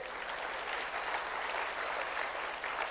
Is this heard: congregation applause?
yes